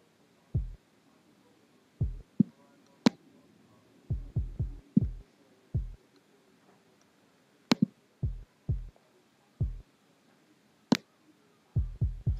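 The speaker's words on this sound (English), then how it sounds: "Just going to raise the kick around 60 because that's kind of like where the boominess is" A kick drum being EQed in Ableton Live, with its low end boosted around the boomy region, thumps in short deep hits with irregular gaps, sometimes in quick clusters, alongside a few sharp high clicks, loud and close with no talk.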